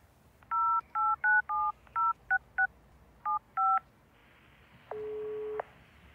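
A telephone number is keyed in: ten short electronic touch-tones in an irregular rhythm, followed by one longer steady tone, clear and close.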